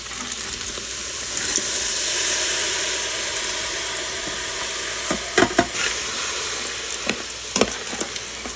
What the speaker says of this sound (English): And now we're going to add our black beans.